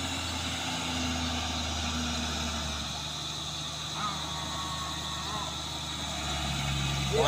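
A CPO tanker truck's diesel engine drones and revs up steadily on the road, a continuous low rumble with gradual rises in pitch, and someone talks faintly in the background.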